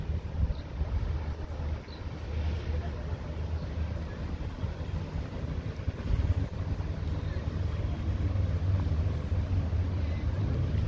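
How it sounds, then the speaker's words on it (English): A large cruise ship, the Seine Princess, moves along the Seine in Rouen and passes beneath the Jeanne d'Arc Bridge. Its low, steady engine rumble and churning water run continuously at moderate distance, mixed with outdoor wind noise. "Seine Princess, that is a ship, cruise ship, which is going to go under Jeanne d'Arc Bridge."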